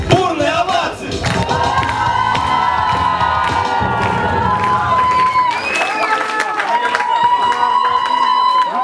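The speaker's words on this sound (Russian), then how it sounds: "подарись им свои бурные овации" A school KVN comedy team performance fills the hall with loud, sustained crowd cheering and shouting, a stormy ovation with children's voices whooping throughout.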